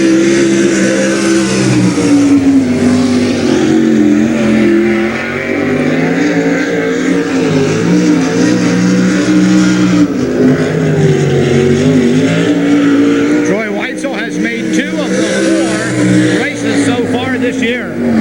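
A race car runs qualifying laps at Silver Spring Speedway in Pennsylvania, a steady engine roar rising and falling continuously under a loud announcer's voice.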